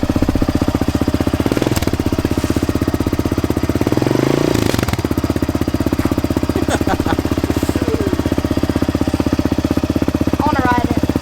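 A Honda CRF125F dirt bike with an FMF exhaust runs loud and close, its steady throbbing engine note swelling in a couple of revs around the middle, with brief voices in the background.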